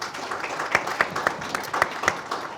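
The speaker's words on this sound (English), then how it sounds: "Let's give Troy a big round of applause." An audience at an advertising and marketing panel claps for a speaker, a soft wash of applause with a few sharp, evenly spaced claps standing out near the mic.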